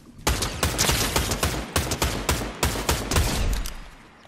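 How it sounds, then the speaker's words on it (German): Gunfire in Fortnite, a rapid series of about a dozen loud, sharp shots in quick rhythmic bursts, close and with no talk over it. "Hey, wer schießt auf mich?"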